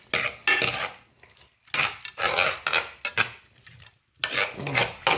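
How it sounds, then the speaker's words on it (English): Bacon macaroni and cheese being stirred in a pot, with a spoon scraping and clinking against the metal in several bursts separated by short pauses, close and fairly loud. "now that the bacon is in here, I'm gonna give this a good stir"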